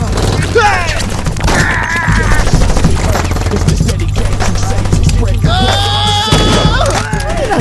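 Gunfire in the video game Saints Row, bursts of shots and impacts mixed with game effects and music across the whole stretch, with someone talking over the action.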